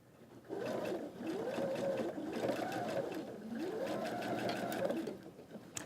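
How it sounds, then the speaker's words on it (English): A sewing machine stitches along fabric pieces for quilt corner blocks, its motor whirring steadily and close in rising and falling surges for several seconds, with no speech over it. "I'm just going to stitch along like that."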